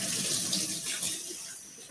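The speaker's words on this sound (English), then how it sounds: "Give it a good wash off." A tap runs steadily into a sink as a soap mold is rinsed off, a close, even hiss of flowing water that fades slightly toward the end.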